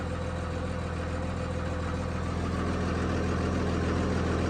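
A tractor engine running at a steady idle after starting in the cold, a constant low mechanical rumble with even vibration, close and fairly loud throughout with no talking.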